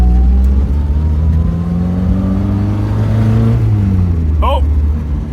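A 1976 MG Midget engine drones loud and steady as the car drives, pitch climbing then dropping through a gear change near the end, with people talking over it.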